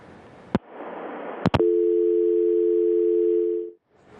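A steady telephone dial tone sounds after a caller disconnects, following two short clicks; the even tone holds for about two seconds, loud and close, then cuts off abruptly.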